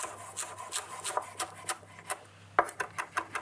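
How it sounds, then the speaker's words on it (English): Knife chopping fresh parsley on a wooden cutting board, a quick series of sharp, close taps and scraping rubs in an uneven rhythm, with no talking. "just run your knife through it a few times"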